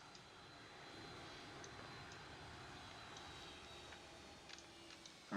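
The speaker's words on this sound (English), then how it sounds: "sounds like the airplane is slowing down again" A Boeing 757 cruises in a flight simulator as it slows down, a faint, steady broadband engine and airflow rumble holding evenly throughout with a few light ticks near the end.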